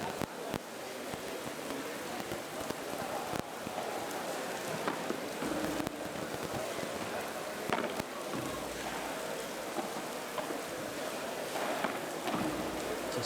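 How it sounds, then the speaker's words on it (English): Rain patters steadily on the roof over an indoor padel court during a pro men's first-round match at the Bali Open, a dense continuous hiss with scattered louder drops and knocks. "we have a little 1 drop of rain getting onto the court through the roof"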